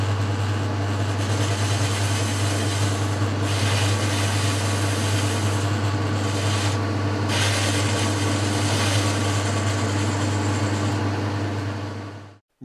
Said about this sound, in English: I'll just put a chamfer on the front edge.